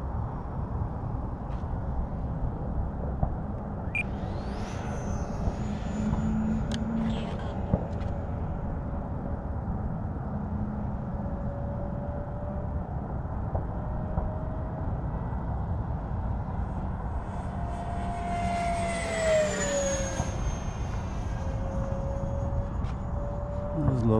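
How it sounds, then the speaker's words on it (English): An E-flite Havoc RC airplane passes low over a field during a touch-and-go, a thin whining motor rising and falling as it swishes by twice, over steady outdoor wind noise. "I just love the sound of this airplane when it swishes by like that."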